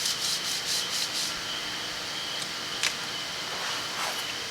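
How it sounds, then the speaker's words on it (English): Sandpaper is rubbed back and forth against a Volkswagen flywheel, making a close, harsh scraping: quick rhythmic strokes at first, then steadier grinding with an occasional light knock. "that holds that sandpaper up against the flywheel"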